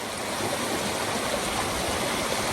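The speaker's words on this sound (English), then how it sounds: "I'm just strolling around here in the river, right at the bottom of my stone garden." River water rushes steadily past the foot of a stone garden, a dense, continuous broadband gush with no pauses, close and fairly loud.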